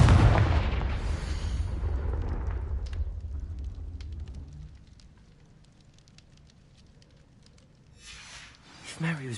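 A Confringo fire spell in Hogwarts Legacy detonates with a heavy, booming explosion that rolls and fades over several seconds, leaving quiet crackles and then a few fresh bursts near the end.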